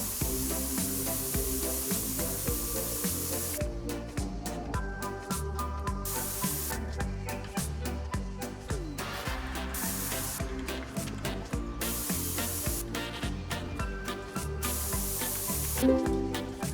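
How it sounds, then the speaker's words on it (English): Aerosol spray painting in the video game Spray Paint Simulator: continuous hissing spray bursts that start and stop repeatedly over a steady bed of background music, fairly loud and close, with no talking. "Now I've sprayed everything"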